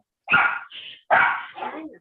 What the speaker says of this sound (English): It looks like the dog has something to say over me